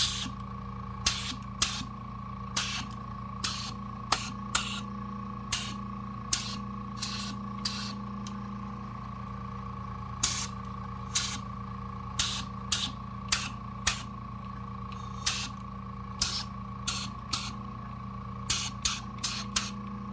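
Short repeated bursts of compressed air blowing debris and powder shavings out of a stripped-down Frankford Arsenal X-10 reloading press, about two dozen sharp hissing puffs over a steady background hum, with no talk.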